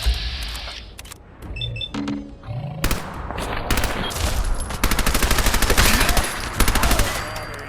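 Rapid gunfire from the video game Fallout 4: after a few scattered shots and thuds, sustained bursts of automatic fire rattle loudly and closely, dense and continuous through the second half.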